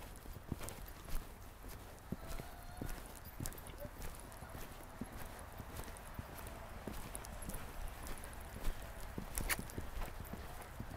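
A horse's hooves clip-clop steadily on the ground during a riding lesson, a faint, even rhythm of footfalls heard at a distance with occasional quiet voices.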